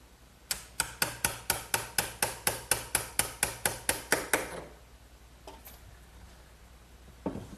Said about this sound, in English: I'm just removing the excess with a good sharp chisel